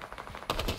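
A quick burst of rapid gunfire in Fortnite, sharp and repeated, fairly faint.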